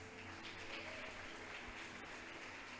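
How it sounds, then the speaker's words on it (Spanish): Church congregation applauding during a sermon, a steady dense patter of many hands filling the room without a break, fairly loud and unbroken. "¿Cuántos le aplauden al Señor, hermano?"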